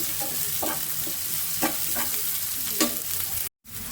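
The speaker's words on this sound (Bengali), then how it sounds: "এখন তেলে দিচ্ছি পালং শাক ডিম আলু" Spinach, egg and potato fry in oil, giving a constant close sizzle broken by several rhythmic scrapes of a spatula stirring the pan, with a brief dropout near the end and no talking.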